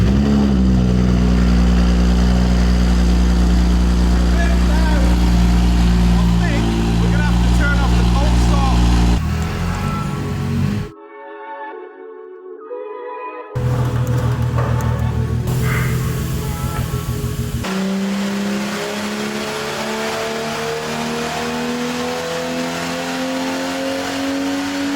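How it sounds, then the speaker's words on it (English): A stock-ECU BMW 135i E82 with manual gearbox and bolt-on parts runs on a dyno, its engine droning loud and steady, pausing briefly midway before pulling again, with a voice speaking over parts of it. "let's get it on the dyno, get some baseline runs"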